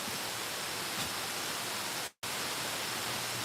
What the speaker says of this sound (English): So there's a waterfall behind me,